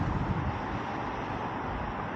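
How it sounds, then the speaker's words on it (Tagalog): Strong, cold wind in South Korea roars and buffets the microphone, a dense continuous rushing noise that stays loud throughout with no voices. "Grabe pa rin ang lamig sa labas. Lakas pa ng hangin."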